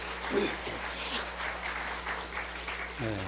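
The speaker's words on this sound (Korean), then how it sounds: "세 분을 위해서 뜨거운 박수로 축복해 주시기를 바랍니다." A church congregation applauds during a Sunday worship service, a crackling wash of clapping that runs for several seconds, with brief spoken voices at the start and end.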